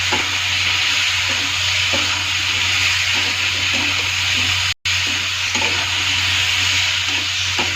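Cumin and ginger paste stirred and fried in a hot pan, giving a steady, close sizzle with soft scraping from the stirring and a brief break partway through.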